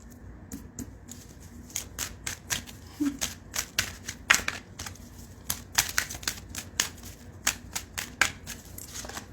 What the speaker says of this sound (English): So I'm trying to do a good shuffle over here.